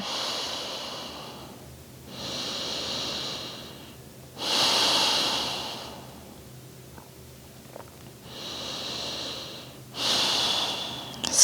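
Slow, deep breaths during a beginner yoga session in downward dog pose: about five long, airy inhales and exhales, close and fairly loud, spaced evenly with quiet pauses between them.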